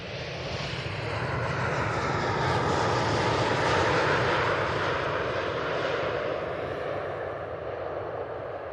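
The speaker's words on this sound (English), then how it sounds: "That's a good landing there." Airplane landing at Manchester Airport, a steady loud engine roar that swells toward the middle and then slowly fades as the aircraft rolls out, with no talking over it.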